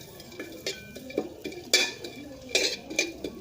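Homemade larb chili paste ingredients dry-roasting in a pan, scraped and stirred with a utensil in a series of near, irregular clinks and scrapes with louder metallic strikes against the pan.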